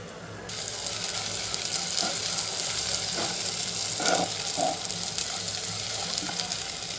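Onions fry in oil with panch phoron for an eggplant dolma, giving a steady, close hiss of sizzling throughout, with a few soft scraping stirs of a spatula against the pan and no talk.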